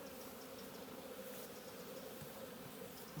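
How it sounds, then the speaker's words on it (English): A honey bee swarm at a large wooden hive that has overwintered hums with a steady, dense buzz during an inspection, continuous and even throughout, fairly quiet and without pauses. "that's a decent swarm, isn't it?"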